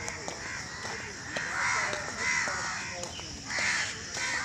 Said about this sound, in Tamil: இவ்வளோ பறவைகள் சத்தம் கேட்குது.